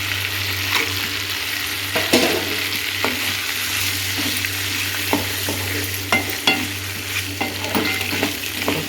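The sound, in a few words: sautéing and stirring chillies for egg chutney in pan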